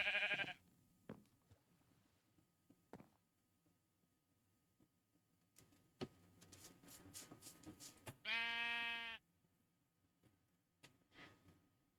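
Video game sheep bleating: a short call near the start, then a loud, harmonically rich bleat around two-thirds through, with soft game sounds and clicks in between and a faint call near the end.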